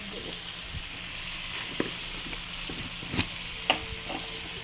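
A spoon stirs spices into cauliflower frying in a pan, with a soft steady sizzle and a few scattered scraping knocks against the pan.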